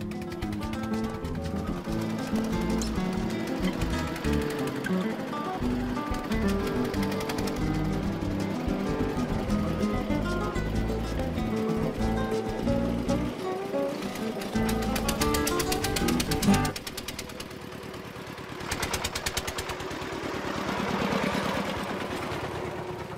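A Paco-Paco utility vehicle's engine runs in the Brazilian Amazon, a rapid mechanical chatter that holds steady and fairly loud before cutting out abruptly, followed by quieter bursts of engine and ambient noise.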